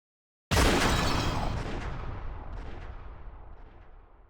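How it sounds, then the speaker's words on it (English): A single sharp, loud gunshot in the visual novel game Umineko bursts out after a moment of silence, followed by a long rumbling echo that slowly fades away. "Sound of gunfire rang out"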